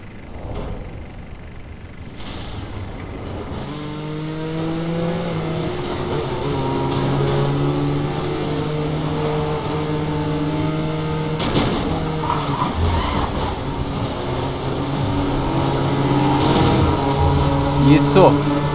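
In the Need for Speed Most Wanted 2012 racing game, a car loses control and skids, tires squealing over a droning, shifting engine note that rises and falls; someone talks over the loud, continuous game audio.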